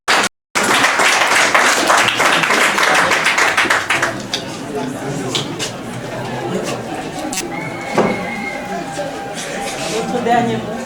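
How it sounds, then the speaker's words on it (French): Wedding guests burst into brisk clapping for the witnesses, dense and loud at first, then thinning to scattered claps and murmuring chatter. "Applaudissez aussi pour les témoins."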